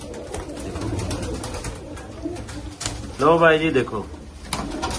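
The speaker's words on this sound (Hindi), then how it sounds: "सारे बेहतरीन कबूतर, उड़े हुए कबूतर जो" A pigeon's soft cooing rises briefly amid a busy background of chatter and other birds at a pigeon market, with someone talking over it in Hindi.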